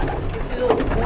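Lalband pigeons coo softly in a pigeon showroom, a short, low, throaty warble mixed with someone talking nearby.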